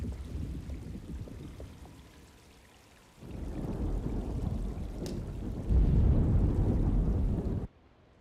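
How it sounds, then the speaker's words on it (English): A thunderstorm in the Alone in the Dark remake rumbles low and heavy, with rolling thunder building in two deep swells and a steady rush of rain, before cutting off abruptly. "Looks like a storm's coming."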